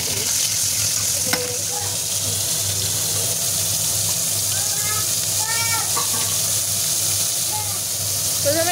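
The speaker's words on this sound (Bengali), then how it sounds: "এই এখানে ডিম সেদ্ধ হচ্ছে আর এখানে সবজি ভাজা" Vegetables fry in a pan beside a pot of eggs boiling, giving a steady sizzle and bubbling hiss with occasional stirring clinks, under faint background voices.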